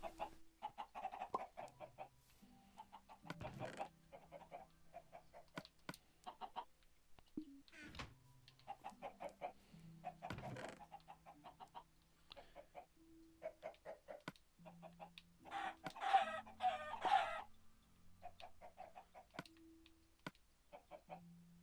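Minecraft chickens cluck in short, repeated bursts at close range, with occasional keyboard-like clicks and sparse quiet sounds between.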